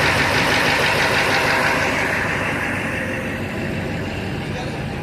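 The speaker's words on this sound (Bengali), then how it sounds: "এই যে ইঞ্জিন এই যে এই যে ইঞ্জিন দেখতে পাচ্ছেন ইঞ্জিন" A railway locomotive engine at Badkulla station rumbles loudly and steadily at close range, a dense diesel-like drone that eases off slightly over a few seconds.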